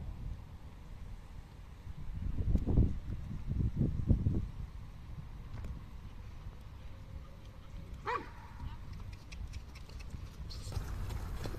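A mare's hooves clip-clop on arena footing during a night riding lesson, soft rhythmic thuds that grow louder for a stretch, then a faint squeak and light background noise.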